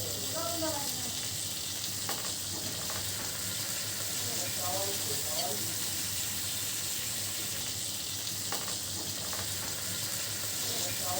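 Chicken shashlik skewers frying in butter in a pan give a steady, close hiss and sizzle throughout, with occasional soft clatters as the pieces are moved.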